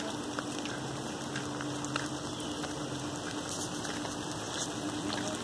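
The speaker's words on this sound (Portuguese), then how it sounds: "Tá chovendo aqui pra caramba." Heavy rain pours steadily, a dense constant patter and hiss with scattered louder drops, no voices.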